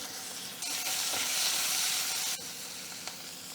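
Close, steady sizzling of a tempering of asafoetida, chillies, curry leaves, turmeric and coconut in hot oil swells louder for about two seconds, then settles back to a quieter crackle.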